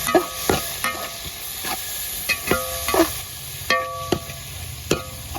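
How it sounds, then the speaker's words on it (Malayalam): Curry leaves and tomato stirred in a hot pan for a tuna fish roast, a gentle sizzle under repeated sharp scraping clinks of a utensil against the pan, about ten strokes, close and clear with no speech. "നമുക്ക് ഈ കരിവേപ്പില കൂടെ ഇട്ട് കൊടുക്കാം. തക്കാളിയും കൂടെ എൻ്റെ കൂടെ അങ്ങ് ഇട്ട് കൊടുക്കാം. നല്ലപോലെ ഒന്ന് ഇളക്കി കൊടുക്കാം."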